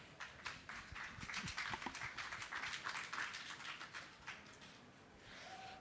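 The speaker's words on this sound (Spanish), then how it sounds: "recibámoslos con un aplauso de bienvenida" Audience welcome applause at a university arts faculty cultural centre event, a dense burst of many hands clapping that swells then tapers, fairly distant and soft.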